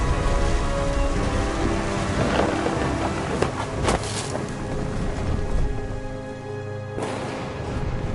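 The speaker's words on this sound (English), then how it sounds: "The thunder sounded much too close and full of angry power." Heavy thunderstorm rain pours steadily in the video game What Remains of Edith Finch, with deep rolling thunder swelling through the downpour; loud, dense and continuous, with no voices.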